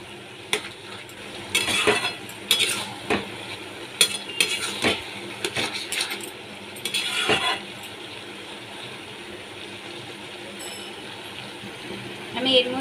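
A spoon scraping and knocking in a pan while an ash gourd mixture cooked with a hilsa fish head is stirred by hand, in bursts of clatter over a low sizzle, fairly close, with quiet stretches between strokes.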